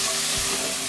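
Ginger and cumin paste fries in a pan for radish and biuli dal, a brief, loud, dense sizzle.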